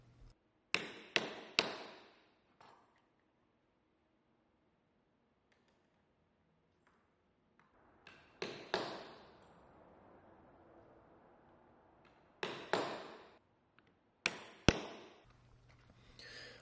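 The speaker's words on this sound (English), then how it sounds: "Then tap the die on top a couple times with a hammer." A hammer taps a rivet flaring die while riveting a Kydex knife sheath, sharp metallic strikes arriving in small clusters of two to four quick hits separated by pauses, close and crisp.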